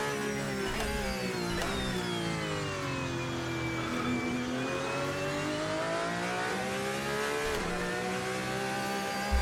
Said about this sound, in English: I run a sound mod that changes the sound of this car to be more like what it is in real life